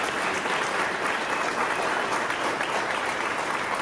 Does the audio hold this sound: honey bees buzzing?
no